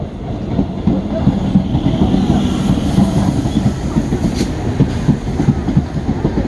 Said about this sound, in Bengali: ফার্স্ট প্যাসেঞ্জার ট্রেন ঢুকলো